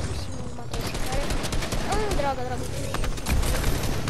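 Rapid gunfire from a Fortnite match crackles in dense bursts under an excited player voice, with echoing shots and a heavier blast near the end.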